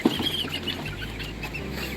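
Chicken clucking nearby at a cabin homestead, a few soft, low calls from the bird against a steady background hum.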